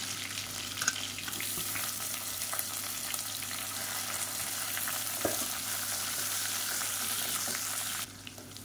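Sliced onion, mint and curry leaves fry in a hot pan for a drumstick paya, giving a loud, steady, close sizzle that runs unbroken before cutting off near the end.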